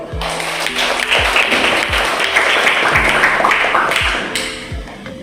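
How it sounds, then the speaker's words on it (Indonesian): A classroom group claps together in steady applause for about five seconds, fairly loud and close, with a rhythmic thumping of background music underneath. "Tepuk tangan buat kalian."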